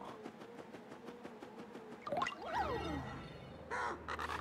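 A crow caws in the Paper Mario RPG remake, a steady run of rapid repeated calls followed by swooping game effects and a brief burst of noise, with no voices.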